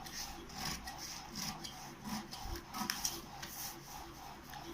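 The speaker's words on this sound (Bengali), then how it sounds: "দেখো কাটছি" Scissors cut through cloth for a garment pattern, a quiet close scraping and snipping in irregular short bursts with light rustling between strokes.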